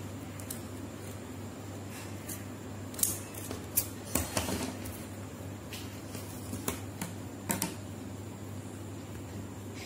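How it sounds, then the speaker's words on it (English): Designer scissors snip through paper for a handmade Teacher's Day greeting card, giving a scattered series of short, crisp cuts over a steady low hum, close and fairly quiet. "So I am using designer scissors."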